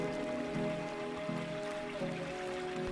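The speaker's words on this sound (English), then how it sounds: "in the intro, let the rain kind of build" A rain sound sample swells in the intro of a lofi drum track made in FL Studio, a soft continuous patter of drops layered under sustained tonal hum and gentle repeating chord pulses.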